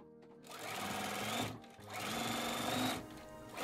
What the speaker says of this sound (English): After this, I'm going to sew the blocks in rows and then sew the rows together to complete the quilt